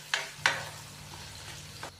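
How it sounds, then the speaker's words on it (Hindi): Beef frying in a pan, with a soft steady sizzle under two sharp scrapes of a spoon stirring, then a fainter third scrape near the end. "और 2 मिनट के लिए हम इसको इसी तरीके से फ्राई कर लेंगे।"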